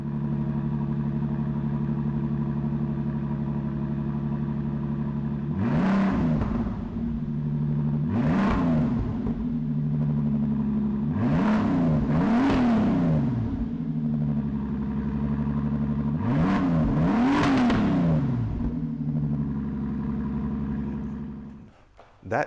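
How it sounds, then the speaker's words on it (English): A 2018 Bentley Supersports GTC's 6-liter W12 with a titanium exhaust idles steadily, then blips through four or five sharp, close revs at a loose rhythm before settling back to a low burble. "That titanium exhaust system sounds incredible."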